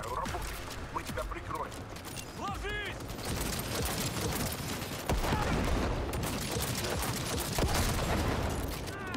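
Dense gunfire in Cyberpunk 2077, rapid repeated shots and explosions blending into a continuous loud barrage, with a voice speaking underneath.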